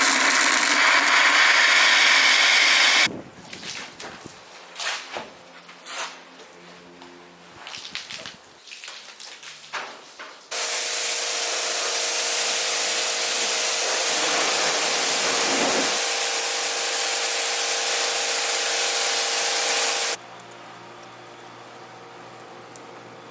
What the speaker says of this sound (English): I'm gonna go over it really quick and then rinse it down one more time